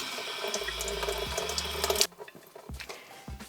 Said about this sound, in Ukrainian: Його потрібно промити під водою.